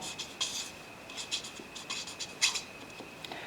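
Pen scratching on paper while writing down the given data of a chemistry problem, a close, quiet run of short strokes and taps in irregular rhythm with no talk.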